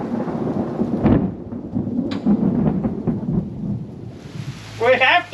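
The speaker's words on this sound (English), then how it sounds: "It's raining in one little spot and it's here." Steady rain patters on a combine harvester out in a wheat field during harvest, a dense continuous hiss with low rumbling underneath. Near the end a brief fluttering, tonal burst rises above it.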